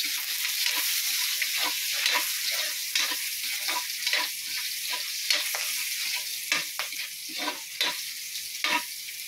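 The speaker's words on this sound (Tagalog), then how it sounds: "Ayan na yung mantika. Ayan guys. Ilagay natin yung bawang. Ayan. Aray. Ayan guys. Nagtatalsikan na guys." Chopped garlic sizzles and spatters loudly in hot cooking oil, a continuous close frying hiss broken by sharp pops and stirring scrapes.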